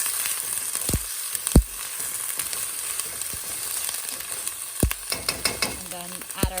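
A tablespoon of ginger garlic paste sizzles steadily in a hot pan for palak paneer while a utensil stirs it, scraping and knocking against the pan several times.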